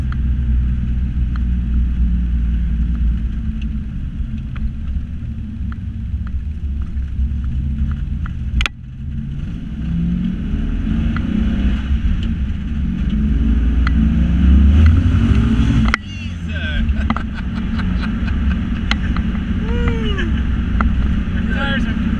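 An LS V8-swapped Datsun 240Z pulls moderately in second gear, heard from inside as a deep, steady engine drone that rises and falls with throttle, with people talking over it.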